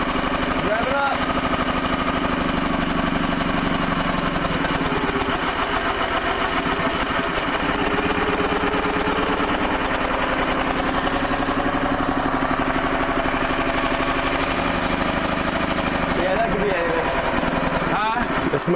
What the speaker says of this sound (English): There we go. Let's rev it up.